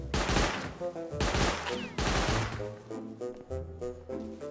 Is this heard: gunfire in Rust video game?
yes